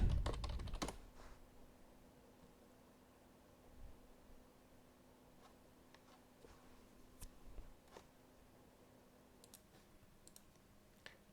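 Keys on a computer keyboard are typed in a quiet room, a short burst of clicks at the start followed by sparse, faint individual keystrokes over a steady low hum.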